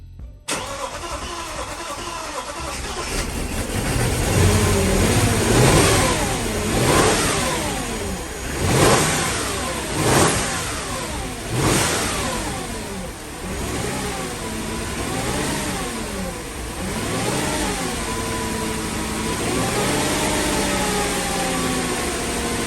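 A 2007 Audi Q7 with the 4.2 FSI gasoline engine cranks and fires up after a short silence, then is revved repeatedly in rising and falling sweeps, loud and close, settling toward a steady idle at the end.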